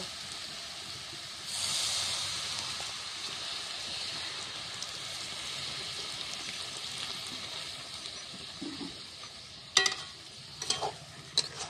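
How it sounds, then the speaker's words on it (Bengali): Water poured onto sautéed banana flower curry in a pan erupts into a loud hissing sizzle that settles into a steady bubbling simmer, broken near the end by a few sharp clatters of a spoon. "এবার আমি জল দিয়ে দেব"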